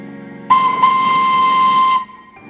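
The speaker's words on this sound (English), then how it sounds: "The engine's only answer was its ghoulish whistle." A steam locomotive lets out a loud, steady whistle lasting about a second and a half, with a steam hiss. The whistle breaks off briefly near its start and fades to a low rumble. No one speaks.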